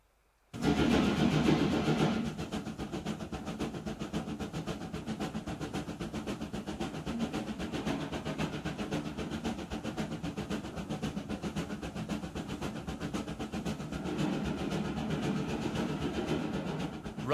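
A steam locomotive runs on the line to Mallaig, heard as a steady rumbling, rhythmic chuffing and rail clatter from the cab, loud at the start and then settling into a continuous drive.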